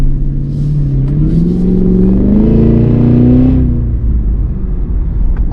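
A 2024 Cadillac Escalade V's engine revs hard in V mode, a loud, deep, steady roar rising in pitch then falling back, with a small crackle near the end.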